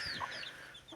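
A brooding hen clucks near the microphone, a few soft, throaty clucks in close succession, with no talk over them.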